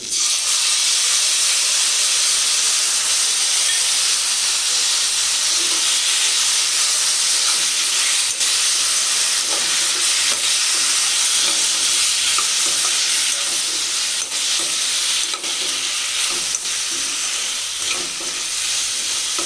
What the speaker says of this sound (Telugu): ఇప్పుడు చింతపండు గుజ్జు వేసుకుందామండి.